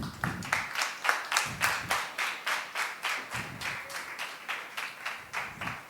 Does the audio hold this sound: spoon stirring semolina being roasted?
no